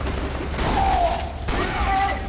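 Shotgun blasts in Borderlands 2 amid co-op combat, two heavy shots about a second apart with ringing tails over a busy game background.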